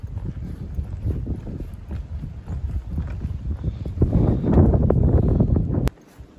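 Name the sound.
strong wind on a foggy mountain trail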